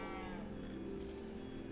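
A cow in a video game gives a single drawn-out low moo, faint but clear and alone, lasting nearly two seconds.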